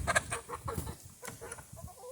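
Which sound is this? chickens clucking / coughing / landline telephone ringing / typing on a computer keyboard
chickens clucking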